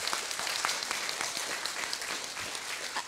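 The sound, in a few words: audience applause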